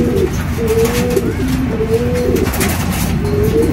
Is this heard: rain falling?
no